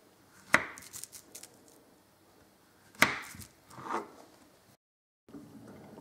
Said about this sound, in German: die Bananen werden jetzt so ungefähr in 4 gleiche Teile geschnitten